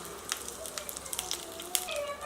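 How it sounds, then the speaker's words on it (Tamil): Curry leaves sizzling and crackling in hot oil in a kadai, a faint, steady fry with small pops scattered through. "எண்ணெய் சூடானதும் அதில் கொஞ்சமாக கருவேப்பிலை சேர்த்துக்கலாம்."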